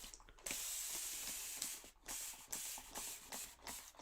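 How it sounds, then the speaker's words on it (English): A handheld spray bottle misting water onto a Dollar Tree Easter chick craft project, heard as a series of close, quiet hissing sprays, several in a row with brief gaps between pumps, no talking. "I'm going to spray this down."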